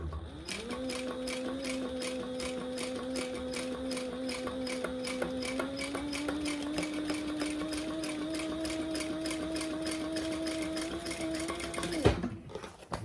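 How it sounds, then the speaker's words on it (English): A sewing machine runs slowly and steadily while top stitching a beginner bag, a rapid even mechanical chatter with a whirring motor tone that holds for about twelve seconds before stopping abruptly. "This is top stitching, so I want it to look pretty."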